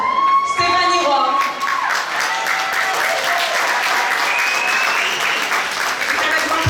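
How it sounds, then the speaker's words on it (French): A loud crowd gives thunderous applause welcoming the presenter at the Miss 15-17 Martinique 2018 pageant, sustained clapping mixed with whistles and cheering tones throughout. "Avec un tonnerre d'applaudissements, la présentatrice Stéphanie Roy"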